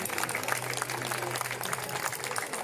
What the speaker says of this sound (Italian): Gli dobbiamo fare un applauso